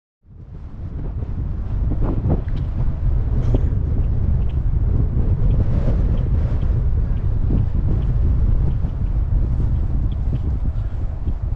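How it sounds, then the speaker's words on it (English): Strong, steady wind at Cape Hatteras on the Outer Banks roars and buffets the microphone throughout, a loud continuous low rumble with gusty surges and no voices. "But pretty windy today out here."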